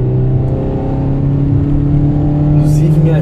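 A 2015 Toyota Etios XLS engine revs and climbs in pitch as it accelerates, heard loud and close with a steady droning hum.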